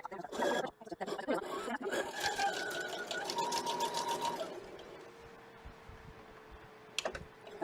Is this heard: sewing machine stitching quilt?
yes